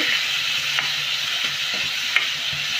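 Spiced paneer sizzles and fries in a pan over a medium gas flame while being stirred, with a steady hiss and occasional scraping clicks of the spatula, no voices.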